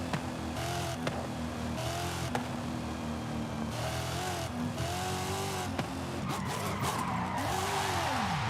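Car tires squeal and skid through repeated drifts in Forza Horizon 5, with wavering screeches rising and falling over a steady engine drone, several slides in a row.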